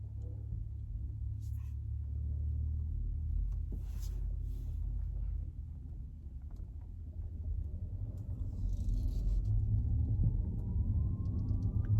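Audi E-Tron electric car humming while driving at low speed: a steady low rumble of road and cabin noise with a faint, slowly rising whine that builds gradually over the stretch, continuous and without talk.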